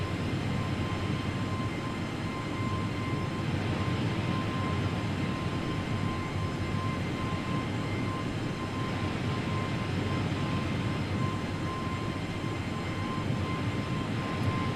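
An airplane cruises at altitude in Microsoft Flight Simulator, a steady, even engine and wind drone with a faint constant tone, continuous and fairly loud with no voices.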